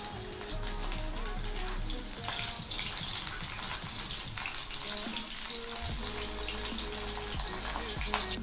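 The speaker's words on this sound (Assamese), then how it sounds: "আলু আৰু ফুলকবিখিনি মই ফ্ৰাই হ'বলৈ দিছোঁ।" Potatoes and cauliflower sizzle steadily in hot oil in a pan while cooking dalma, a dense continuous frying crackle with occasional stirring scrapes and no voices.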